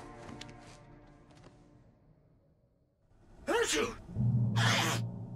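A sneeze from a character in the video game Alan Wake, a sharp two-part burst near and loud that follows a stretch of quiet talk and breathy sounds.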